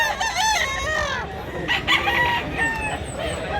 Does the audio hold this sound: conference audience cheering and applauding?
no